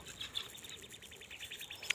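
Small birds chirp faintly in short, repeated tweets against a steady outdoor background hum.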